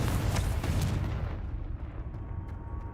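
A Confringo fire blast spell in Hogwarts Legacy bursts with a loud booming impact, then fades away over about two seconds.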